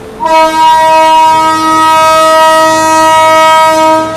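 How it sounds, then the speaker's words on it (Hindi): Seemanchal Express (12487, Jogbani–Anand Vihar) departing Ghaziabad Junction sounds its horn in one long, loud, steady blast held for about four seconds. "चलो दोस्तों, निकल गई है ट्रेन अपनी जो है गाज़ियाबाद जंक्शन से।"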